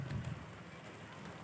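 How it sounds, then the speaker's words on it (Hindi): Rain falls outside during a storm as a faint, steady hiss that lasts the whole stretch, with no voices over it. "अब आप ही देख लीजिए बारिश कितनी आ चुकी है बाहर"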